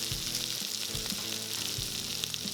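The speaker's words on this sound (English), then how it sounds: "Now we're sauteing." Chicken for sweet and sour chicken sautés steadily in a pan, a continuous close, loud sizzle and crackle with a few soft knocks of stirring and no talk.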